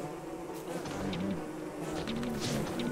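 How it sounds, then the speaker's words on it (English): Killer bees buzzing in the video game Don't Starve, a steady close drone of several insects with wavering pitch that holds throughout. "Now, these killer bees are gonna come after us,"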